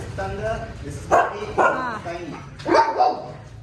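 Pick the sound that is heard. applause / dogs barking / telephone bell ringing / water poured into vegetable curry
dogs barking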